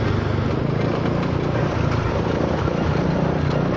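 Honda Forza 300 scooter engine and exhaust running continuously up close, a loud, dense, steady droning roar with no pauses.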